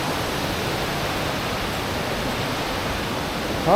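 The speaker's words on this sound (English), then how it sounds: "This is just built to let you see the waterfall." Steady, broadband rushing of a waterfall at Drummoney, County Fermanagh, constant and fairly loud throughout, with no voices and only a slight bump near the end.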